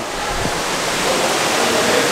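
Waterfall near Ubud, Bali, pouring as a loud, steady broadband rush of falling water close by, constant and without breaks, with no talk over it.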